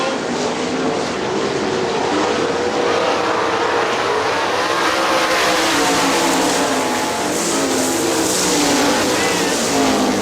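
410 sprint cars race at Hartford Speedway Park in Hartford, Michigan, a steady, loud, continuous engine roar with shifting pitch as the field passes, under a track announcer's commentary.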